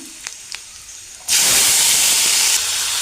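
A sudden loud hiss of sizzling erupts after a few quiet clicks as cumin and mustard seeds hit hot oil, then continues as a steady, close crackling sizzle.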